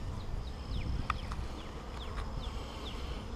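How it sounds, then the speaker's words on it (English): Honey bees crowd the comb of a newly established hive during its first inspection, giving a steady low buzzing hum with a few brief, faint higher chirps drifting over it. "I can't see because of the bees on the comb."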